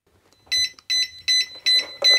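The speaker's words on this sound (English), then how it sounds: "When the speed controller starts beeping, it's a 3-step process we need to go through." An electronic speed controller in a model boat's lower hull beeps in programming mode: five short bursts of high, bright electronic tones, each a quick pair or trill, evenly spaced with brief silences, close and clear with no talking.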